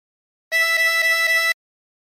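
A single harmonica note blown into hole five four times in quick, even succession, bright and reedy, with silence before and after.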